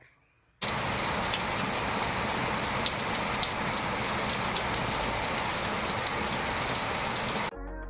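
Heavy rain pours down in Kanyakumari, a loud, steady hiss of downpour that starts abruptly after a brief quiet moment and keeps up without a break.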